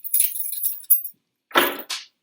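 A set of keys jangles and clinks in two short bursts, a longer rustling shake followed by a brief pause and a second bright jingle, close and fairly loud with no voices.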